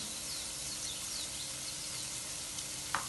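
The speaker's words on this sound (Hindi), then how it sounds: "और तो अब मैं इसमें ना ये थोड़ा सा ज़ीरा डालूँगी।" Cumin seeds sizzle in a hot pan, a soft, even hiss that runs throughout, with a small sharp clink near the end.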